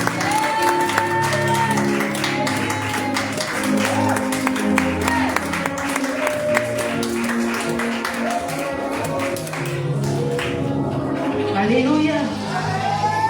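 Applause and cheering from a church congregation at an intercession gathering, a dense, sustained roar of clapping with voices mixed in, loud and close throughout.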